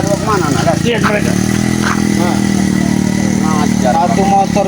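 A motorcycle engine runs steadily as it rides past on a road, with a mid-pitched drone under several people talking continuously throughout.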